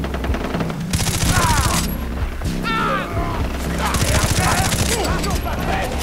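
Rapid bursts of suppressed gunfire from a silenced weapon aimed at enemies in the shooter Far Cry 3, two clusters of fast repeated shots over a steady game soundscape with music.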